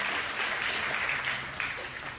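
A taiko concert audience claps steadily for about two seconds, a dense, even wash of applause with no voices.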